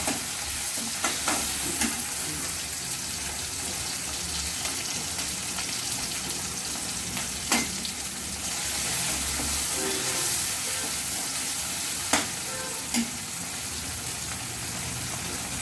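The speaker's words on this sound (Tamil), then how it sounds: "நம்ம தக்காளி வதங்குறதுக்கு கொஞ்சம் சால்ட்டு போட்டுக்குவோம் போட்டு நல்லா வதக்கிக்குவோம்" Tomatoes with salt sautéing in a pan for a mushroom pepper masala, giving a steady close sizzle with occasional stirring scrapes and clinks throughout.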